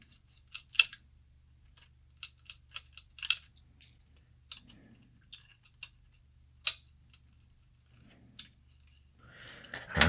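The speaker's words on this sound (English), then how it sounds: "now we're going to use kind of a micro screwdriver, Phillips. There's a couple screws to take out of the ribbon cables" A Phillips micro screwdriver backs out small screws from ribbon cables inside HDzero FPV goggles, giving sparse, faint, close clicks and ticks over near silence, with a brief rustle at the end.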